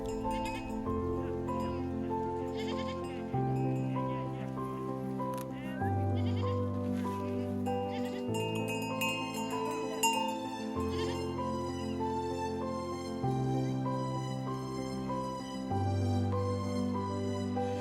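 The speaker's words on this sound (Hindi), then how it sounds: "यहाँ पे लोकल गांव वाले अपने जानवरों के साथ आए हुए हैं यार। और भेड़ बकरियाँ देखिए भाई कितनी सारी है यार" A large flock of about a hundred sheep and goats brought by local villagers to a Himalayan ridge-top trek site near Bageshwar, heard under continuous loud music with a repeating bass pattern that largely masks the animals.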